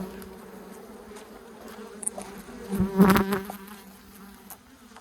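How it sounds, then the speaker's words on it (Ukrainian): Bees buzz densely around beehives with a steady droning hum, one insect sweeping close by and loud in the middle before fading back into the swarm. "бджіл дуже багато"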